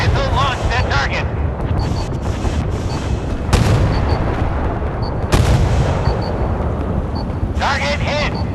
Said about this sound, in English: Missile launched at target!